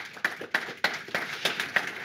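Audience at a round-table discussion on energy-efficient renovation at a Lille campus, clapping sparsely at moderate volume, a few distinct hand claps standing out over a soft background of applause.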